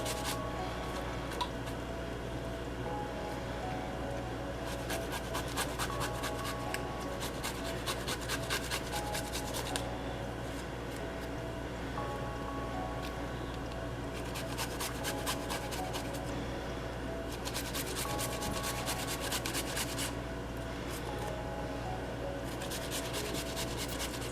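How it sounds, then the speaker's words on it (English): Fresh ginger root grated by hand for a lemon tea, giving repeated bursts of dry rasping strokes in a steady back-and-forth rhythm, close and alone with no talk. "I find that when you grate your ginger"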